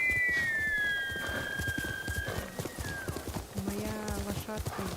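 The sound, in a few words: horse galloping and neighing in the video game Ghost of Tsushima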